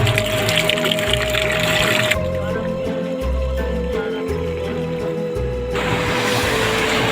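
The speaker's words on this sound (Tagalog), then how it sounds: "Lagyan natin ng tubig." Water pours steadily and loudly, a continuous rushing splash that shifts in tone partway through, over a low rumbling hum.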